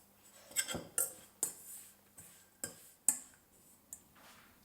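Starch and spices being mixed in a bowl for crispy chicken tenders, heard as about nine sharp clinks and taps of a utensil against the bowl at an uneven, quick rhythm, fairly close and moderately quiet.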